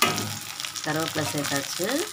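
Mustard seeds, urad dal and chana dal sizzle in about two spoons of hot oil for a vegetable poriyal, a steady close frying hiss running throughout while a voice speaks over it.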